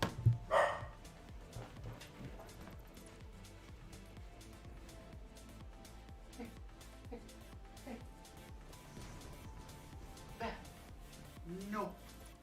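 A pet dog named Luna barks and yips in a room, the sounds faint and distant under a person talking over a quiet game stream.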